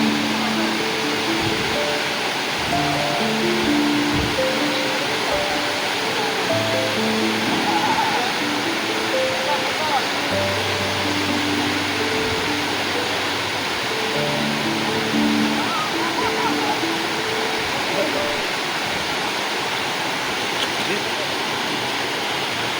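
A river flows steadily through dense forest, a loud continuous rushing of water that fills the whole stretch, with people talking over it throughout.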